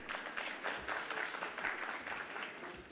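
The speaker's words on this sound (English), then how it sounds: "can we give a huge round of applause for our speakers?" An audience at a formal address applauds its speakers with steady, dense clapping that holds at an even level throughout, with no voices standing out.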